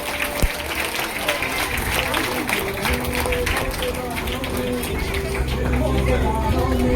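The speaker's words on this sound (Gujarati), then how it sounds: "જ્યારે ઇનામ આપે ત્યારે તાળીઓ છોકરા અને બહેનો પાડતા રહેજો." Children and women clapping at an outdoor prize-giving, a steady dense patter of applause sustained throughout, with a voice speaking over it and some crowd babble in the background.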